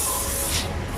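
A cleaner is sprayed onto a Buddy Raven toy in one short, close hissing burst that fills the whole second.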